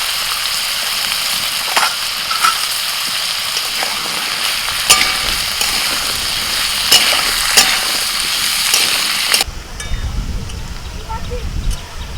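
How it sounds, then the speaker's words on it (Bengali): Potatoes with turmeric and salt fry together with green peas in hot oil, a loud continuous close sizzle with stirring scrapes, the texture shifting near the end as the pan is disturbed. "মটরশুঁটি আর আলু একটু একসাথে ভেজে নেব"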